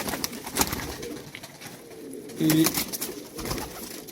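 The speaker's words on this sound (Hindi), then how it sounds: "ये जी ये अब अबाबील कबूतर है जी सैफ खां का।" Soft coos from Ababeel breed pigeons sound close by, a short burst in the middle, amid faint rustling and background noise.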